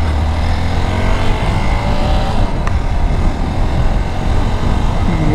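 Loud, continuous engine drone and road roar from a Hero Xpulse 200 4V Pro Rally Edition motorcycle on the move, with the pitch stepping slightly as gears change throughout.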